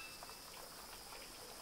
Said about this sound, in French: Vous entendez le bruissement des feuilles dans le vent, une légère pluie et quelques oiseaux.